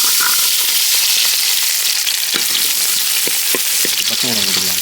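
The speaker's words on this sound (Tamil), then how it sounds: "அடுத்து எண்ணெயை ஊற்றுவோம்." Oil poured into a pan over village cooking sets off a loud, steady frying sizzle that fills the whole stretch, with a brief voice near the end.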